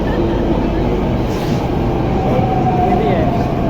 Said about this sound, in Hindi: तो देखिए मेट्रो आ गया, मेट्रो आ गया।